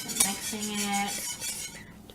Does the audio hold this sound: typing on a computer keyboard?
no